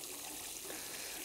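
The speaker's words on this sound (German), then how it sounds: "So, jetzt gießen wir das Ganze vorsichtig erstmal an." Water from a rain barrel, mostly osmosis water, poured gently onto a newly planted fruit tree in a pot with a saucer, giving a steady, soft trickling splash that runs on alone throughout.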